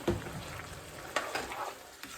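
Seasoned ground beef sizzles and fries in a pan while being stirred, with a few scraping stirs standing out over a steady close sizzle; no talking.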